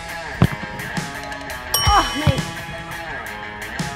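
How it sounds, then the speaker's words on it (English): A bicycle bell dings a few times with bright metallic rings, mixed with a short voice-like whoop and light clatter, fairly close. "he's even ringing the bell for you"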